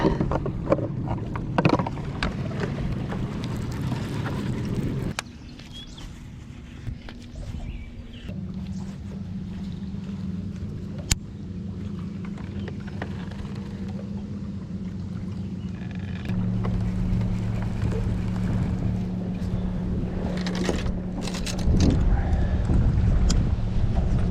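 Low engine drones of motorboats rumble across open water on Lake Gaston, shifting in pitch as they pass, with wind buffeting the microphone and water lapping nearby.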